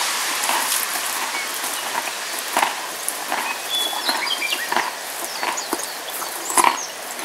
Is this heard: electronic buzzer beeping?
no